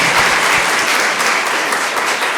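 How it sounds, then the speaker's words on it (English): Audience applause after a keynote speech at a conference, a dense, steady wash of many hands clapping at close range and fairly loud, with no talk over it. "Let's give her a round of applause."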